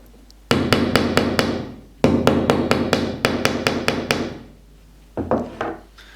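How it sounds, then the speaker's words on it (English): A hammer rounds off the edges of pot rivets on a hide pole made from metal tubing, in three bursts of sharp, ringing metallic strikes struck in quick, steady rhythm at close range, with short pauses between bursts. "Then with a hammer, round the edges of the pot rivets off with the round shape of the tubing."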